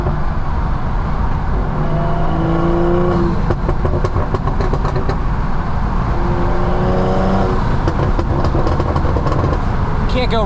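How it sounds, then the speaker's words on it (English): BMW M340i with a stage 2 tuned B58 engine, its exhaust rumbling deep and steady as it accelerates, with a few crackling pops near the end, loud and continuous under a voice talking. "the B58 just is so rumbly. The dark tonality that comes out of the exhaust"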